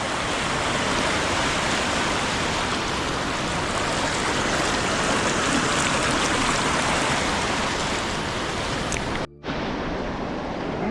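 Loud, constant roar of a fast-flowing river in Coorg rushing nearby, broadband and unbroken, with a brief dropout near the end.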